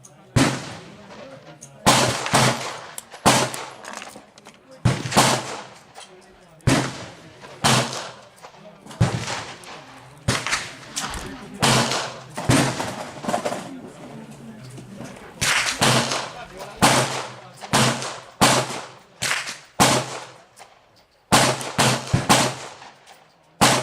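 A Smith & Wesson 686 revolver firing .38 Special short loads of 2.8 grains of Alliant Power Pistol, a long run of sharp, loud shots at irregular intervals, some in quick pairs, heard outdoors with brief talk between.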